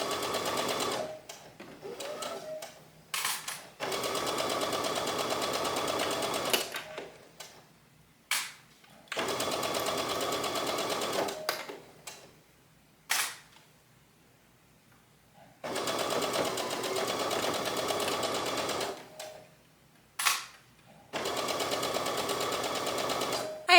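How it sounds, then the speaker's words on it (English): Domestic sewing machine stitches a blouse yoke in several long steady bursts of fast mechanical whirring, separated by quiet pauses and brief handling clicks, close and clear. "So I will sew my first yoke"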